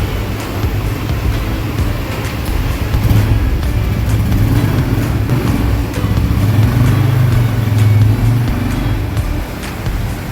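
A TVS motorbike rides out on a test drive after servicing, its engine and road noise forming a steady, fairly loud drone for about ten seconds, with no talking.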